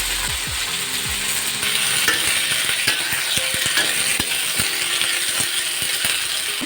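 Washed green beans tipped into hot oil sizzle loudly and continuously while a spoon scrapes and clinks against the pan in irregular strokes.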